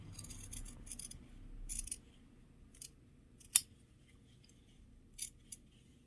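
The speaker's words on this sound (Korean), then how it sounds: "여기서부터는 아주 짧게 시접을 잘라줍니다. 이렇게 시접을 잘라주세요." Scissors trimming the fabric seam allowance on a homemade chicken-shaped cushion, heard as a few quiet, scattered snips spread across a hushed room with no voices.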